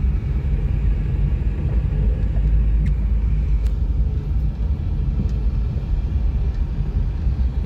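A car drives along the damaged, pothole-patched BR-381 highway near Antônio Dias, Minas Gerais, giving a steady, loud low road and engine rumble throughout with no talk.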